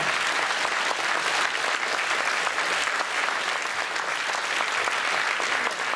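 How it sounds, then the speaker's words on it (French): Audience applause at a 2014 radio talent contest awards ceremony in Bain-de-Bretagne, a dense, steady wash of clapping from a large crowd that stays loud and even throughout. "Quand même, vous pouvez les applaudir."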